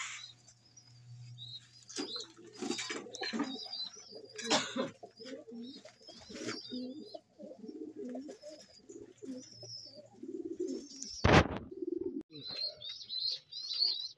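Pigeons coo softly in a coop, low rolling calls near and fairly quiet, with chirps, a brief burst of wing flapping and occasional shuffling noises between the calls.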